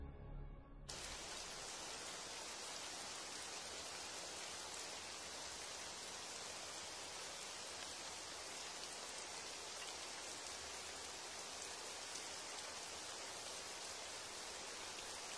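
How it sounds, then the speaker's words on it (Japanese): Rain falling heavily, a dense, even hiss that starts abruptly and then holds steady and unbroken for the full length, with no voices. "雨降ってるぞ。"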